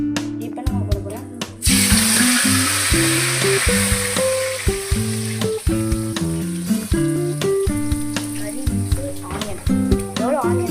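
Food sizzles in a hot pan, browning while pepper chicken is cooked. A steady, hissing fry begins after a few light knocks and continues under tuneful background music.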